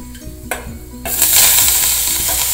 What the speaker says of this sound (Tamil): எண்ணெய் காஞ்சோடனே கடுகு, உளுத்தம்பருப்பு, வரமிளகா, அப்புறம் கட் பண்ணி வச்சுருக்கிற கீரையை சேர்த்துடலாம்.